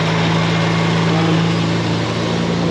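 A supercharged Toyota Barra-engined burnout car runs with a full 3.5-inch cat-back exhaust and no catalytic converter, giving a loud, steady, droning engine note with a strong low hum throughout.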